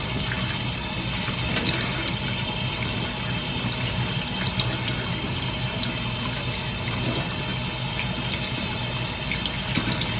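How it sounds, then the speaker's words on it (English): Tap water runs steadily to rinse shampoo out of an American Girl doll's hair, a continuous close splashing rush at a constant level for the whole stretch. "You want to make sure you rinse out all of the shampoo."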